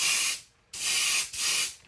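Aerosol can of white spray paint hissing in three bursts over pumpkin seed fishing bait, the first short, then two longer heavy passes with a brief break between, close and loud with no talking.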